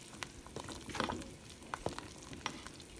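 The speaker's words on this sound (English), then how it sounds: "I'm going to stir it up real good, give it a good stir" A pot of chicken and dumplings with thyme being stirred, giving soft scraping and wet clicking strokes over a low simmering bubble, with a few sharper taps of the spoon against the pot.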